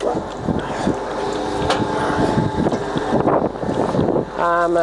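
A Mitchell VM8 centre lathe's main motor runs with a steady, loud mechanical roar, and a rising whine appears just at the end.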